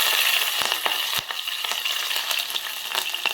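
Green chillies frying in hot oil in a pan, a steady loud sizzle with scattered stirring scrapes and pops, no voices.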